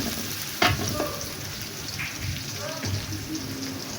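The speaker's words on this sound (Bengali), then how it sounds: "পেঁয়াজ কুচিটা নিয়ে হালকা বাদামি রং করে ভেজে নিচ্ছি" Chopped onions fry in a pan until light brown, giving a continuous dense sizzle and crackle with a few sharper scrapes of a spoon, moderately close, and no speech over it.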